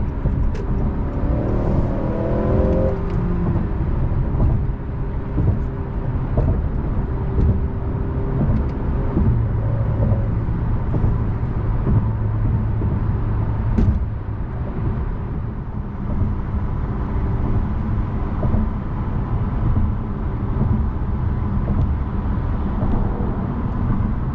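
Steady low road roar and tire hum inside a Honda Accord 2.0t cruising on General G-MAX AS 05 245/40/19 tires, a constant broadband rumble with no one talking.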